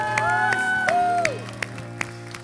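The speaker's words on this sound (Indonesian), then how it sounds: "Tepuk tangan yang paling meriah buat Tuhan kita" A church congregation claps during a worship service, scattered steady handclaps under sustained held music tones, thinning after a second or so to a few isolated claps.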